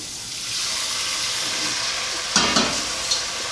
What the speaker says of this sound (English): I'm going to help it out with a little bit of chicken stock. Just a splash.